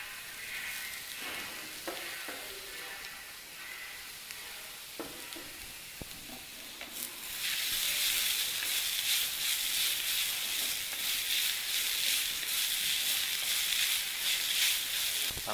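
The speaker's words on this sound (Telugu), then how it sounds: "ఇప్పుడు కట్ చేసిన బంగాళదుంపలు వేసుకుందాం." Cut potatoes sizzle and fry in hot oil in a pan while wheat rava upma is being made, starting as a moderate crackle with occasional stirring clatter, then swelling into a loud, steady hiss that holds to the end.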